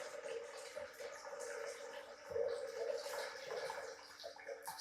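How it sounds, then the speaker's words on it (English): Hot water from a kettle pours steadily into a mixing bowl in a home kitchen, a continuous splashing stream that swells briefly midway, with no talking over it. "So I've got my kettle here and I put some hot water just to speed it up for you folks at home."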